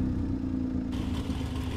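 Car engine starting as a sound effect in Unreal Engine, a short mechanical crank that catches partway through and settles into a steady, fairly loud idle rumble.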